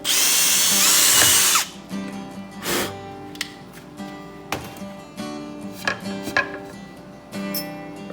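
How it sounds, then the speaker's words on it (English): A power drill whines loudly for about a second and a half while drilling a mounting hole, then stops, followed by scattered knocks and clatters of handling. "I'm drilling an extra hole for a mounting hole"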